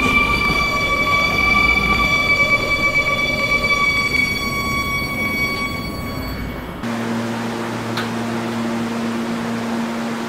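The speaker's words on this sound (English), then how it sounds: "This is a Kennedy Main Street bound 7 express train." Video-game R220 subway express train on the Roblox 7 line running steadily, with a sustained rumble and bright tonal whine that shifts abruptly to a lower steady hum partway through, no voices.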